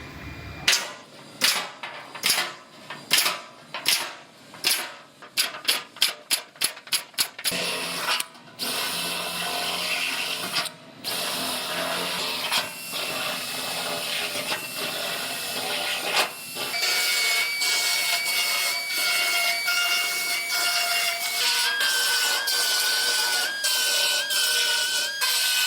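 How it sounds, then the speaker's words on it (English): Holes being drilled or punched for plug welds in a new floor pan for a Toyota: a run of sharp, rapid bursts of tool noise at first, then a sustained loud whine of power-tool work. "I'm going to go ahead and make all my holes for the welds."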